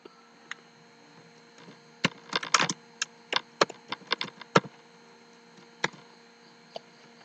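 A computer keyboard is typed on in short irregular bursts of crisp clicks over a quiet steady hum, close and fairly soft, with pauses between keystrokes.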